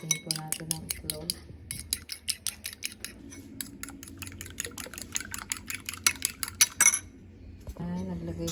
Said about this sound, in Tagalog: batiin po natin ang itlog